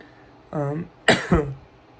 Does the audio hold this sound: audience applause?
no